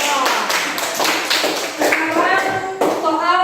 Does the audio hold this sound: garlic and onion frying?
no